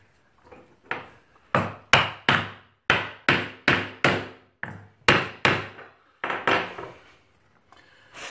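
Hardwood floor board on the last row being beaten into place gives a series of sharp, loud hammer blows in uneven clusters, close up and ringing slightly, with short pauses between groups and no talk.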